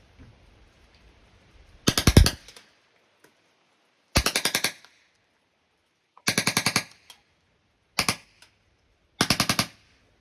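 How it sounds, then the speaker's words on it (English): A 2005 Bakail Drodz airsoft gun fires five separate rapid bursts of BBs, each a loud, close rattle of quick shots spaced by short pauses. "Let's try 6-round burst."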